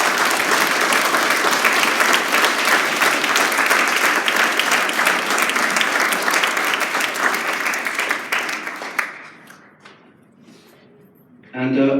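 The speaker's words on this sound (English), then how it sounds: "Round of applause, congratulations." Loud, sustained applause from a spelling bee audience honours the final-round winner, fading out after about nine seconds into a few last claps before a voice starts talking near the end.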